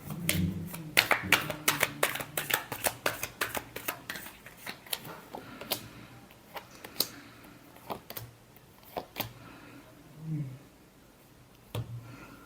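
Tarot cards shuffled by hand in a quiet room, a rapid run of crisp riffling slaps and taps that thins into scattered single flicks, with a voice talking softly at times.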